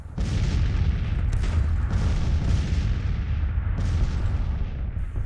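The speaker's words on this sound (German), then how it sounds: "Wir schießen uns mit den Kanonen." Cannon fire in a Civil War strategy game, Grand Tactician, rumbles as a dense, continuous battle din, with repeated deep booms overlapping into a loud, sustained roar.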